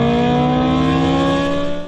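A Honda S2000 engine revs hard and steady during a street race, a loud close drone with rising harmonic tones and slight wavering, no talk over it.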